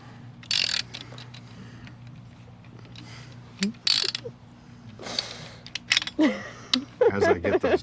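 Ratchet and socket clicking on a Ford Bronco front lift install, heard as short bursts of metallic ratcheting with pauses between, some clanks and a brief voice near the end.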